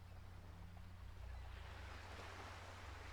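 Steady, soft surf and rolling ocean waves wash continuously through the opening cinematic of the Mafia Definitive Edition video game, a low, broad rumble with no voices.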